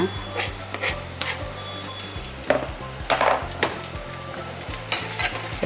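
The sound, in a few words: green chillies frying in a pan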